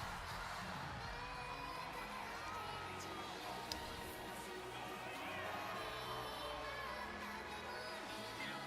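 A crowd cheers and whoops for the racehorse Gold Ship during a video game race, a dense steady roar with scattered shouts that carries throughout.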